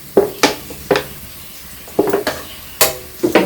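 Food frying in a pan while being stirred in a home kitchen, sharp spatula scrapes and knocks against the pan in an irregular rhythm of about ten strokes over a low sizzle, close and loud, no talking.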